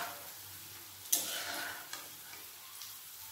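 Fish roe pakoras fry in hot oil with a steady, soft sizzle, a sharp clink near the start and a few faint taps after.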